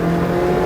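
A McLaren GT4 on a track accelerates at full power, a loud, close, steady engine drone held for a brief moment without talk.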